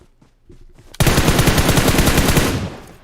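A loud, continuous burst of rapid automatic gunfire sounds in the PUBG Erangel 2.0 beta, starting abruptly after a brief quieter moment and holding steady for about two seconds.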